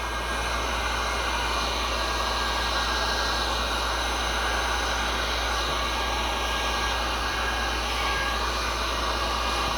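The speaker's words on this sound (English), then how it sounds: "I have my heat gun on high." A heat gun blowing on its high setting over resin, a loud, continuous close-up whooshing hiss of hot air holding steady throughout.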